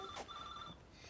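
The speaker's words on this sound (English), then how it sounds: "I'll just get the phone." A telephone bell rings indoors in a family home, with steady tonal ringing that stops partway through and no one talking.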